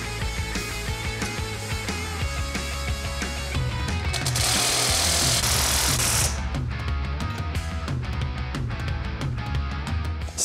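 Metabo SSW 18 LTX 800 BL cordless impact wrench tightening nuts, its speed setting raised step by step, a loud, close, rapid hammering rattle that runs continuously, with a harsher burst in the middle.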